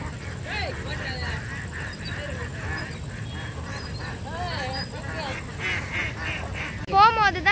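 A flock of ducks at a duck farm quacks continuously, many overlapping calls at moderate distance with background rustling, ending in a sudden louder burst of flapping and quacking.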